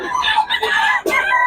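Gamecock roosters at a Bocaue market crow close by, overlapping strained, harmonic calls packed into a second and a half, with a second crow cutting in near the end.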